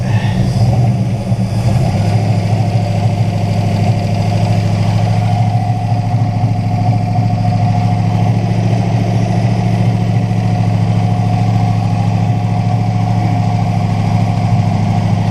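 An abandoned 1968 Buick Skylark V8, brought back after 40 years, idles loudly and steadily close by, its idle bumped up slightly near the start and then holding a constant rumbling drone, with no talking.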